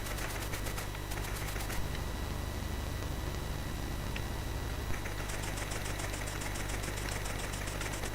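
Locomotive engine in the C64 game The Train: Escape to Normandy chugs in a steady low mechanical drone, with a fast rattling ticking layered over it and no voices.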